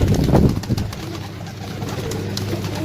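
Rampuri Kalpota pigeons offered for sale in Pakistan coo in low, throaty, repeated calls close by, alone with no talking.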